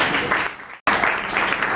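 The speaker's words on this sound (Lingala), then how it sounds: "Acclamons pour Jésus" A church congregation applauds and cheers for Jesus in a short, dense burst of clapping with one brief break.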